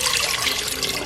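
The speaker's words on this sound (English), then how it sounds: "first to my pot, I'm just gonna add some water" Water pours steadily from a tap into a cooking pot for a brief moment, a continuous splashing trickle heard close up.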